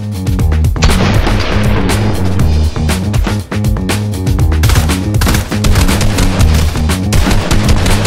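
Loud, dense gunfire and booming explosions in Fortnite pound continuously over a low rumbling backdrop, with no pauses in the chaos.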